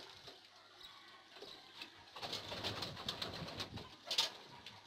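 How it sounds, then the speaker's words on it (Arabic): Pigeons coo softly nearby, their low, faint calls repeating over a quiet outdoor background. "فعلا الحمام راح كل منها"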